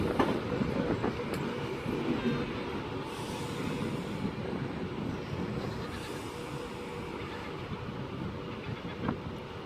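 A train runs through Carlisle station on the West Coast Main Line with a loud, steady rumble and rolling clatter that holds throughout, with occasional light clicks over it.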